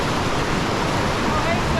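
Churning whitewater of a small surf wave and hole on the Truckee River, a dense steady roar of rushing rapids filling the whole moment, loud and close with no voices.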